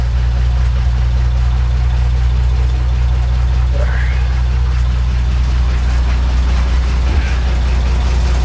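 A 1932 beer truck's engine idles steadily, a loud continuous low rumble with a constant drone throughout, a couple of faint brief clicks and knocks over it.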